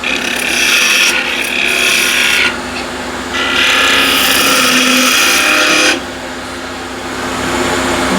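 A one-inch skew chisel cuts spinning wood on a lathe running at about 2050 RPM, a loud close rasping hiss that dips twice as the cut lightens and returns, with no talking.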